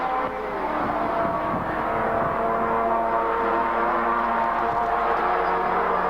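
A Mazda touring car races along Conrod Straight at Bathurst in the 1983 Hardie Ferodo 1000, its engine droning loud and steady as it pulls out to pass a slower car.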